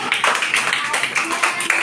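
Schoolchildren in a first-grade dot-domino number game clap in quick, close rounds while an adult teacher talks over the clapping.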